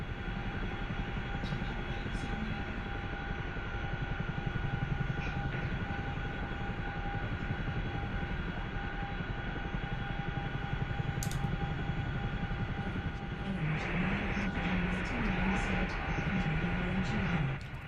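An F-16 jet engine in the DCS World flight simulator makes a steady, droning roar with faint whining tones, constant throughout and moderately quiet.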